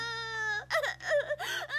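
A cartoon child cries in short sobbing bursts with rising and falling wails, close and fairly loud, with no talk over it.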